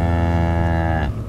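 A cow moos in the horror video game Zoonomaly, one long, loud, drawn-out low call with a steady tone that fades out at the end.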